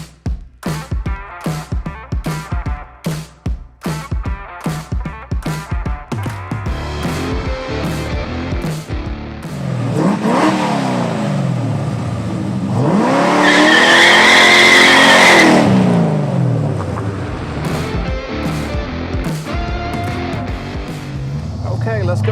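A Datsun 240Z restomod engine fires in rapid rhythmic bursts, then revs up and down loudly with tires squealing on a drive, close and powerful, with some talk mixed in.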